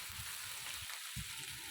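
Chopped onions browned to medium and crushed ginger fry in oil for a mung dal tadka, giving a steady, soft, close sizzle throughout with faint stirring thumps and no talking.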